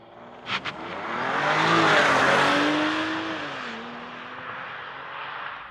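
A car engine revs hard and accelerates away on launch control, its pitch climbing then easing as the steady drone fades, with a brief chirp at the start.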